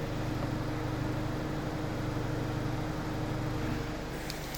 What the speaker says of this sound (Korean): 엔진룸 덮고 들려드리면